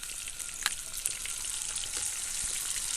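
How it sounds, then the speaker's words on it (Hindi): Masala fish sizzles and crackles steadily in hot oil over medium heat, a continuous bright frying hiss with a few sharper pops, fairly faint and close, no talk. "तकरीबन 1 मिनट हमने इसको ऑयल में फ्राई कर लिया है"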